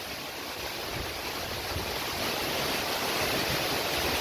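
Misol-Ha waterfall in Chiapas, Mexico, heard from directly beneath the falls, roars as a loud, unbroken wash of falling water filling the whole sound.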